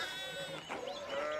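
Sheep bleating in the medieval village of the Pentiment game, a few wavering nasal calls overlapping at moderate distance with faint background ambience.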